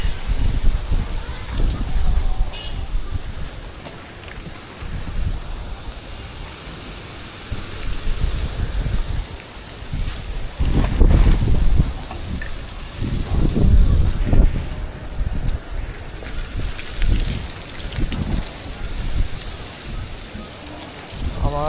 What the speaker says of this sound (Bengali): অনেক বেশি বাতাস এখানে